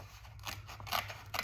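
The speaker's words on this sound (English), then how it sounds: "you could take some fussy cutting scissors. You just need to get in here." Small fussy cutting scissors snipping through paper for a quilt-block scrapbook page, a few close, crisp cutting strokes in quick succession over a steady background hiss.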